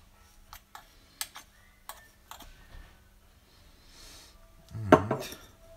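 A metal coffee tamper presses grounds into the portafilter of a manual espresso machine at home, bringing a series of sharp clinks and taps, then a louder thud and scrape near the end, close and alone.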